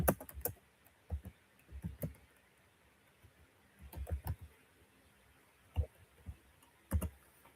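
Typing on a computer keyboard: irregular bursts of close clicking keystrokes separated by short pauses, with no talking.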